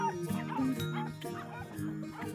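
A dachshund barks and yips excitedly in a short, busy burst, loud and close, layered with other voices and sound from a film scene.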